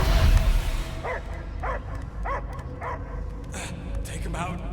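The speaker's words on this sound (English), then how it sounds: "I hear only barking." A dog barks in the Guardians of the Galaxy video game, a short series of about six evenly spaced barks at moderate distance over steady game ambience and a low rumble, with speech-like sound at the start.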